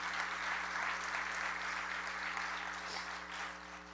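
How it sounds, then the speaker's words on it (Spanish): A church congregation applauds during a worship testimony, steady dense clapping from many hands, fairly faint and continuous over a low hum. "Dele fuerte el aplauso al Señor."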